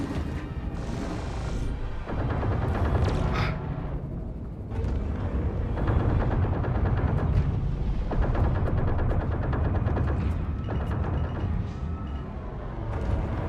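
A Gladius spaceship explodes in the space game Star Citizen, a heavy booming blast followed by a rumbling series of deep crackling detonations and debris impacts that continue throughout.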